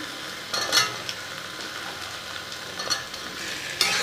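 Red amaranth stems sizzle steadily as they fry in a pan over a gas flame, with a few sharper scrapes and clinks of a utensil stirring them through the oil; no voices.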